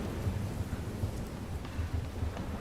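Steady heavy rain with low rolling thunder rumbles in a thunderstorm in the Life is Strange video game set in Oregon, continuous and fairly loud with no voices.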